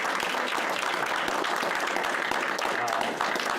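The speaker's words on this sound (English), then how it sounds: "They certainly deserve a round of applause." Applause from the audience at a borough council meeting, honouring a group of boys: a steady, fairly even patter of many hands clapping throughout, with some murmured voices mixed underneath.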